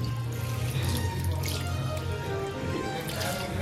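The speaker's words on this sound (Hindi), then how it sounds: "यहाँ का टैप मुझे बहुत यूनिक लगा भाई, फुट ऑपरेटेड है" Water runs steadily from a foot-operated tap in a shopping mall washroom, a close, continuous splashing rush into the sink with no pauses.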